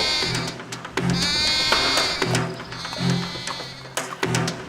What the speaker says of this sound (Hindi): लगता है कोई बकरी फंस गई है।